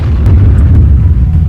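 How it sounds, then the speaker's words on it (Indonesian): A deep, rumbling boom with heavy low-end roar, loud and sustained, an explosion echoing in Minecraft. "Ledakan sama suara monster."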